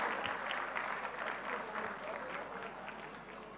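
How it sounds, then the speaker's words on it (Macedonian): An indoor audience at a Roma cultural ball claps in sustained, fairly faint applause with a dense, even texture and a soft crowd murmur underneath. "Ајде, одиме со аплауз"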